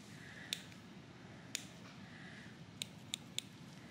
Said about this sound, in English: make a small snip